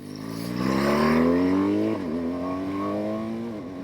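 A 2018 BMW R1200GS Adventure motorcycle pulls hard, its engine note climbing steadily, dropping briefly at a gear change, then rising again, loud and close from the rider's position.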